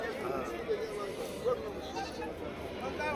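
Goats bleat a few times amid the murmur of the crowded Shirur goat and sheep market near Pune, Maharashtra, with people chatting nearby throughout.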